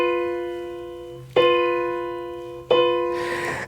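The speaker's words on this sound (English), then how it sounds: "It's called the devil's interval in certain traditions, but the correct term is the tritone" A tritone interval, the cello part transposed up and sounded with violin, rings as sustained tones restruck three times, each attack followed by a slow decay, ending with a brief noisy scrape.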